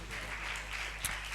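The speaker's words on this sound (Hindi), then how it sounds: "आए खुदा के जलाल के लिए भरपूर तालियां बजाएगा" Congregation clapping in church at the close of a prayer in an Urdu sermon, a brief dense wash of applause over a low hum, with one sharper burst near the end.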